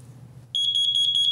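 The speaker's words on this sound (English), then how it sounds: "Carbon monoxide alarms are one of the most important things you can have in your house." A carbon monoxide alarm in a house starts abruptly and beeps loudly and steadily in rapid pulses, about ten in a second, above a low background hum.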